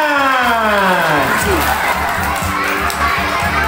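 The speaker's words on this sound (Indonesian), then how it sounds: "Jaga, sekali lagi tepuk tangan" Audience at a school traditional costume contest, a lively burst of clapping and cheering with children shouting, layered over music that fades as the crowd noise rises.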